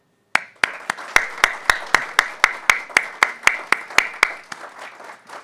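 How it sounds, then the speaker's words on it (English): Regular, sharp hand claps from a small nearby audience welcoming a distinguished guest, about four per second, steady and loud, then slowly fading out. "please join me in a round of applause to welcome our distinguished guest"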